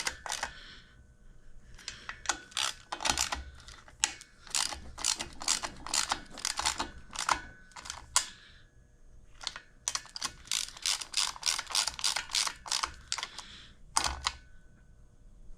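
Ratchet wrench with an extension and 13 mm socket refitting a starter motor during a Stella scooter rebuild: fast bursts of sharp clicking ratchet strokes in quick runs, close and loud, with brief pauses between runs.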